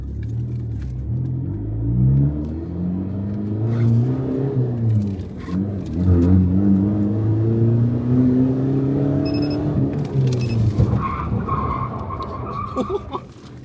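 A Isuzu D-Max pickup's engine rumbles, then a long squealing skid as it brakes hard on front Brembo Cayenne brakes, tires screeching loudly for several seconds before fading.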